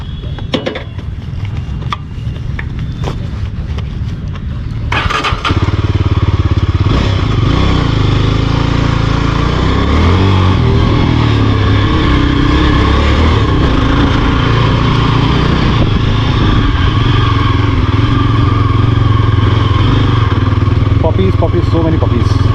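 A Yezdi Adventure motorcycle on a ride to the hills, heard from behind the rider's helmet: a loud, steady engine drone with wind roar that swells after a few seconds and holds throughout, with no talking.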